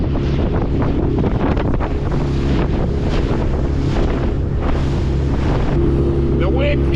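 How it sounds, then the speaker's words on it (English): Strong wind gusting over a lake during a windstorm while a boat runs across the water, a loud continuous roar of buffeting air over a low motor drone and splashing, close and unbroken throughout. "The wind came up."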